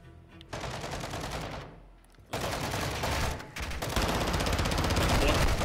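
Sustained bursts of enemy automatic gunfire in the Modern Warfare II campaign, dense and loud, broken by two short pauses before a long continuous barrage.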